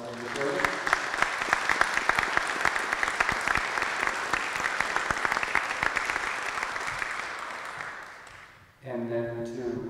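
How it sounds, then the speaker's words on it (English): A room full of people at a town meeting clapping steadily for several seconds, then the applause fades out and a voice begins speaking. "we certainly offer a round of applause for your service"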